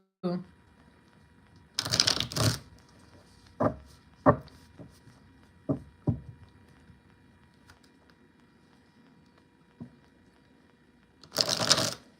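Brisk bursts of tarot card shuffling, a few riffles and scattered taps, with quiet gaps between and a soft voice in the background.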